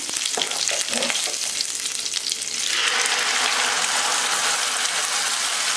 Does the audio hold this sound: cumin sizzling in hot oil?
yes